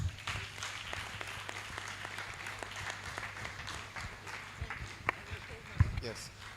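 Faint, steady audience applause after a speech at a digital content conference, a continuous spread of distant clapping with a few sharper claps near the end.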